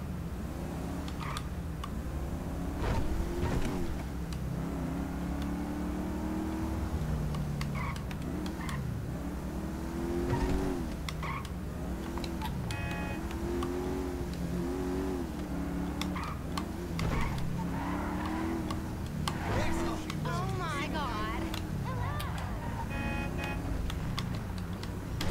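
Car driving in GTA V, a steady engine drone with shifting revs running throughout, mixed with game music and scattered effects, no talk.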